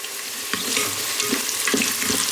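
Frankfurters sizzle and fry in an electric pressure cooker, a steady hiss with scattered crackles and faint clinks of stirring, close and alone.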